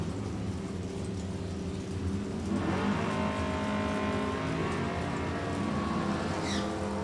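A Chevy Camaro and a Ford Mustang launch side by side at an NHRA drag strip. Their engines swell from a rumble into a roaring, rising run that moves away, heard from a distance over crowd ambience.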